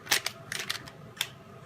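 Scissors nick a small hole in a soft plastic lure skin, a few quick close snips and clicks in an irregular burst, with no talking.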